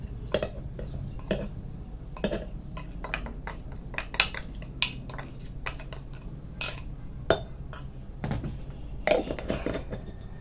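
Spoon and utensil clinks and scrapes repeat irregularly as mango pickle is mixed with chili powder in a bowl before being stored in a jar, with close, sharp metallic ticks over a low background.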